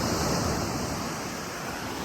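Ocean waves roll onto the Pacific coast at Olympic National Park in Washington, a loud, continuous wash of surf mixed with wind noise, with no voices.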